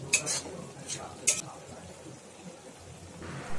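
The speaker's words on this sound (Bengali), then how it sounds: "খুব ভালোভাবে মশলাটাকে কষতে থাকতে হবে যতক্ষণ না মশলাটা থেকে তেল ছেড়ে আসছে।" Spice paste with red chilli powder stirred and fried in a pan for Bengali ghugni, giving soft scraping and a few light metallic clinks of a spoon against the pan over a low steady sizzle, close and quiet.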